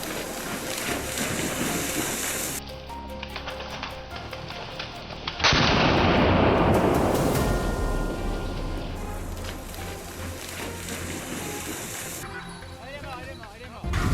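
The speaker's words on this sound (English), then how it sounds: "Then bang. A precise, clean shot dropped one of them right where it stood." A rifle shot during a wild boar hunt, a sudden loud blast that cuts into steady background noise midway, followed by a long decaying rumble.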